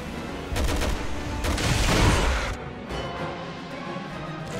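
Rifle fire bursts out in the video game Resident Evil 6, a loud rapid volley of shots and impacts that fades into a quieter background.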